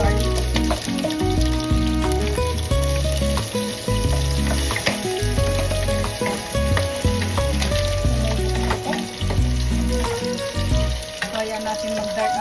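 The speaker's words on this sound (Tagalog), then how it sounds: "Ihulog na po natin yung garlic. So ito na po. Lagay na po natin yung garlic." Garlic sizzles and fries in hot oil in a pan for a Filipino sauté of bottle gourd with pork and dried shrimp, a steady crackling hiss close up with occasional stirring, continuous throughout and without any talk.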